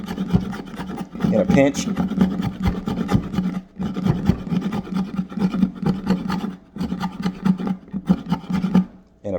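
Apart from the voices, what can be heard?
scraping wood feathers with CAT multi-tool serrated edge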